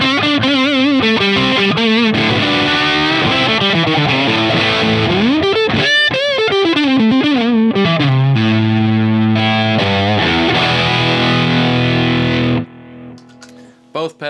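Heavily distorted electric guitar through a Strymon overdrive pedal in high gain mode, playing sustained chords and bending lead lines, loud and saturated throughout, ending abruptly with a few faint trailing notes.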